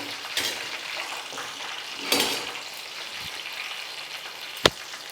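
Green chicken fry frying in a pan, turned brown and being lifted out: a steady close sizzle with a few scraping utensil strokes and a sharp clink near the end, no voices.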